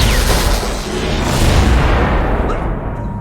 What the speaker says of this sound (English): the alien explodes before the blast cover closes, hitting guests with an explosion of air and water.